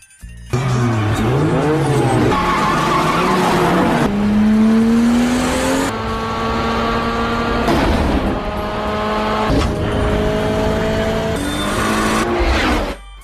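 Street race cars from the Fast and Furious (2001) film rev hard and roar past, rising engine tones sweeping up and down with tire squeal and skidding, loud and continuous with music-like layers over nearly thirteen seconds.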